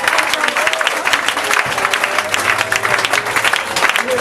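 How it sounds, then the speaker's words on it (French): A church congregation applauds and cheers continuously, dense sustained clapping with crowd voices, loud and close for the whole stretch. "acclamez le Seigneur Jésus"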